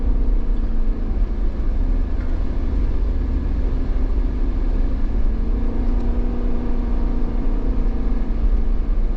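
A 2024 Jeep Wrangler 392 V8 holds high revs while climbing a steep mountain trail, a loud continuous low engine drone with steady harmonics, heard close with no talking.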